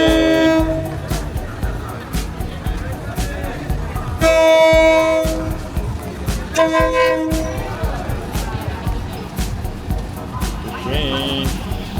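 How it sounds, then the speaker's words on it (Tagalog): A train rolls slowly through Bangkok's Railway Market, sounding several loud horn blasts over a continuous rumble, with people talking and calling out nearby. "Here's the train."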